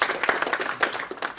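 Audience clapping in a room, a steady patter of many hands with scattered louder claps, close and fairly lively throughout.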